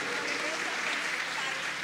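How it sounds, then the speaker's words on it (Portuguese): Dense, steady applause from an audience at a parish community festival honoring São José, filling the whole moment with continuous clapping and no break. "Uma salva de palmas à comunidade Bandeira"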